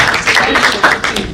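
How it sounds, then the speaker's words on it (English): Brief burst of audience clapping at a youth conference, a dense, close patter of hands lasting just over a second, with voices mixed in. "You can give a very big round of applause."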